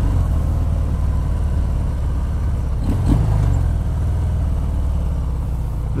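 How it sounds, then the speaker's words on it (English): Harley-Davidson FXDR 114 motorcycle from 2019 cruising in fifth gear around 2200 rpm, a steady low engine drone with wind rush, recorded from the rider's position, continuous and fairly loud with no talk. "So I'm at fifth gear, at 50, it's going 2200 revs."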